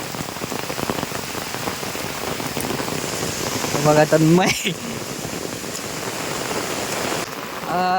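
Heavy monsoon rain in the Konkan countryside near Ratnagiri pours in a dense, continuous hiss, loud and close, while someone briefly speaks over the downpour.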